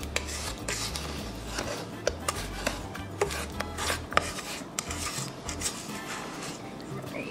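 A spatula scrapes around the sides of a bowl of gluten-free brownie batter, giving close, rhythmic rubbing strokes with occasional sharper clicks against the bowl.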